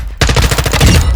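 A rapid burst of automatic gunfire in Call of Duty: Modern Warfare II (2022), a loud, close, continuous string of shots lasting about a second after a brief quiet start.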